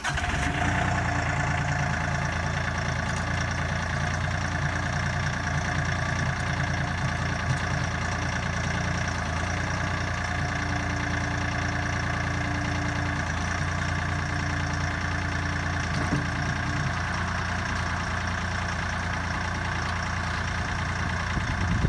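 A Kioti CK3510 SE cab tractor engine idles close by for the whole stretch while running the loader hydraulics, a constant low rumble with mechanical whine and no change in pace.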